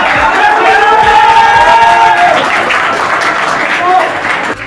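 An audience at an Urdu poetry mushaira in Hyderabad bursts into loud applause with cheering and voices mixed in, sustained for a few seconds before dropping off at the end.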